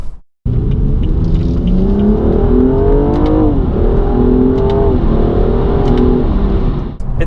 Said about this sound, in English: Basically a synthesized sound played through the car speakers to sound like a fast engine